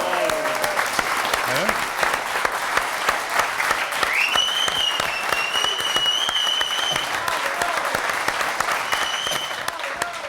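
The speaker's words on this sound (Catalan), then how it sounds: "Home, un aplaudiment, no?" Steady crowd applause from members of a football supporters' club, loud and continuous for about ten seconds, with voices and a whistle-like tone rising over the clapping.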